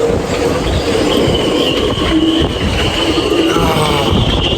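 A gale-force wind roars steadily through a marina with a catamaran moored there, a loud, unbroken rush with thin whistling tones rising and falling above it.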